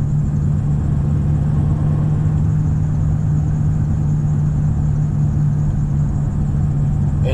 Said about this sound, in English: I think it's the wheel bearing making that noise.